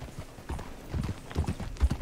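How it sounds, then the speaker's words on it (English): Horse hooves clip-clopping in the video game Red Dead Redemption 2, a soft, irregular run of hoof thuds at a walking pace, fairly quiet and close. "A beautiful horse."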